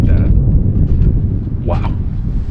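Strong, very cold wind at a remote mountain fire lookout at 11,000 feet, roaring and buffeting the microphone in a steady low rumble while a voice speaks briefly over it.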